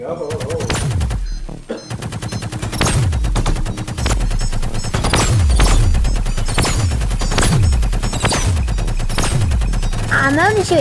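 Rapid bursts of gunfire from the VR Invaders video game repeat steadily and loudly for the whole stretch, layered over a driving rhythmic game soundtrack.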